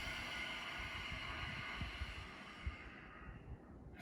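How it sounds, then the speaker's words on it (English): Audible yoga exhalation through a constricted throat, a long soft ocean-like breath of steady breathy hiss that fades out near the end, faint and close with no talking. "so it'll sound something like this, breathing in through the nose, out through the mouth."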